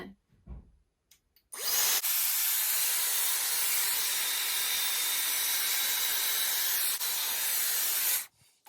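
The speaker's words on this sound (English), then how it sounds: "I've blow dried that part inwards" A Dyson Airwrap blows air through fine, thin hair, a loud steady rushing hiss that runs unbroken for about six seconds before cutting off, with no talking.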